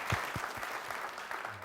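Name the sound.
applause for Kayaoto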